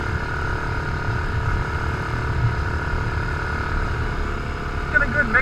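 Off-road bikes and side-by-sides, including Polaris machines and a Grizzly 660 ATV, rumble steadily on forest trails, a continuous engine drone close by with a rising whine near the end.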